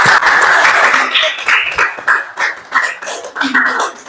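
Students in a classroom clapping after a group's science presentation, a loud uneven burst of many hands with some voices mixed in.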